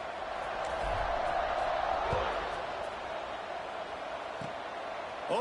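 A football stadium crowd in NCAA 26 hums as a steady roar before a kickoff after an interception, constant and broad, with faint thuds and a rising whistle-like sweep near the end.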